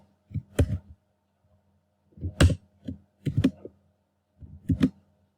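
Short bursts of keys tapped on a computer keyboard, clustered clicks in four separate groups with quiet pauses between, close and without talk.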